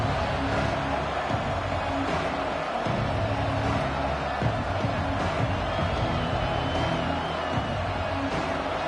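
Stadium crowd noise from the NCAA 26 football video game, a dense, steady roar of cheering fans that runs the whole length at an even, loud level with no pauses.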